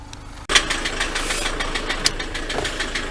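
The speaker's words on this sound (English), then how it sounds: "got it started, but as you can probably hear, it's got a bit of a rattle to it." A car engine fires up abruptly and settles into a steady idle with a persistent rattling knock, the sound loud and close with no talking over it.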